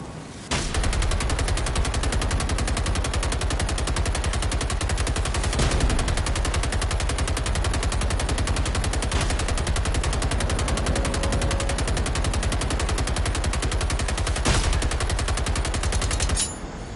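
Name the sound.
light machine gun firing in a video game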